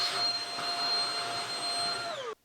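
A household vacuum cleaner, not a shop vac, runs steadily with a high whine and broad rushing noise, then cuts off abruptly near the end as its motor winds down.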